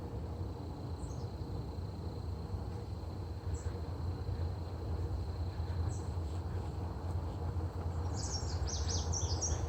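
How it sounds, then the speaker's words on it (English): Birds call sporadically from the treetops of a bird sanctuary, thin faint chirps scattered over a steady low rumble of distant traffic, with a brief cluster of calls near the end. "there's several birds that are like moving about in the tops of the trees."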